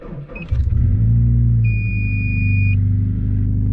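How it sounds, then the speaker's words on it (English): A Subaru Impreza WRX STI left standing for a month and a half in freezing weather cranks and fires into a loud, steady low idle rumble, with a brief high electronic beep partway through. "let's see if the car will start up"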